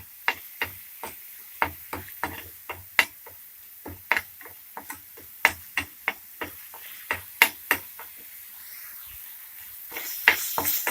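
Onion paste fries in hot oil, giving off a steady series of sharp, crackling pops and ticks at a fairly even, unhurried rhythm. Each pop stands out clearly over a quiet background, with no talking.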